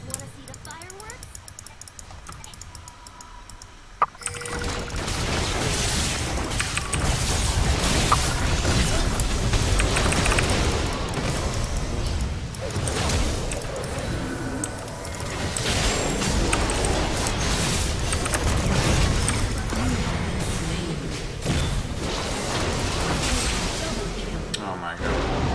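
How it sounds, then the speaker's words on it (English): Explosive in-game fireworks effects in League of Legends, a dense run of booms and crashes starting a few seconds in and continuing loudly, with keyboard typing and a player's voice heard over the game. "Wanna see the fireworks?"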